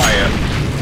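A loud, rough burst comes from an incendiary grenade thrown in Counter-Strike on the de_dust map. It fills the whole brief moment with a dense, rumbling roar that has a mechanical edge.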